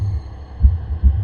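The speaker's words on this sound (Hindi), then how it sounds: "कुछ देर मुझे अपने दिल की धड़कनें साफ सुनाई दे रही थी" Heartbeat sound effect in a horror story, two deep, booming thumps spaced about half a second apart over a low steady hum, close and heavy, with no voices.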